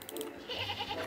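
A goat bleats in the Star Stable Online video game, one short, wavering bleat heard clearly and alone over a soft game background.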